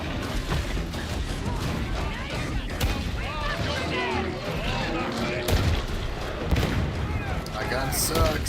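Player's gun firing in the Warhammer 40k Darktide shooter, repeated shots mixed into a dense, noisy battle against a big enemy, with someone talking over it.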